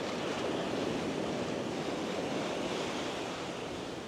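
Steady broadband roar of ocean surf breaking around a small RC fishing boat, waves too large for it, with wind noise on the microphone, continuous and loud throughout without talk.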